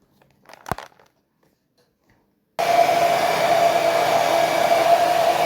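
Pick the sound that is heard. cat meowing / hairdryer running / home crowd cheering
hairdryer running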